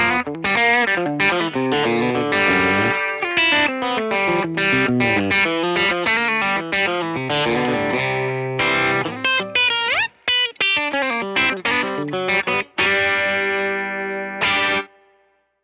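An electric guitar played through a Fender Compugilist pedal on its low-to-mid-gain distortion side, with loud, continuous chords and single-note riffs that pause briefly near the end.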